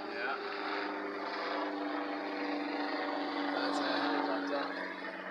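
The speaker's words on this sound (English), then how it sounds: "That's the helicopter." A steady, droning rotor and engine hum of a helicopter at Newcastle Airport holds at constant loudness throughout, with faint voices murmuring underneath.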